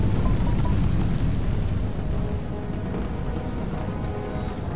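Cannon and musket volleys from a battle in Empire: Total War, a dense continuous roar of gunfire and rumbling booms that stays loud and steady throughout with no talk over it.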